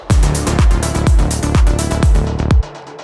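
The main drop of a melodic techno track pounds with a deep kick roughly every half second over a thick droning bass and bright synth layers, loud and dense, cutting off abruptly at the end.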